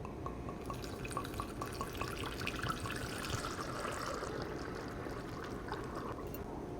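Water pours steadily into a small mini whiskey barrel being filled toward three liters, a continuous close trickling and dripping with no voices over it.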